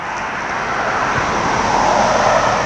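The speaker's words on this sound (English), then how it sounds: "this road's so damn noisy tonight" Steady roar of a busy road at night, with passing cars making a continuous, fairly loud wash of traffic noise and no pauses.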